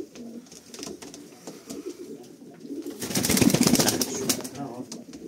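Pigeons coo in low, throaty repeated calls, with a burst of fluttering wings midway and someone talking nearby.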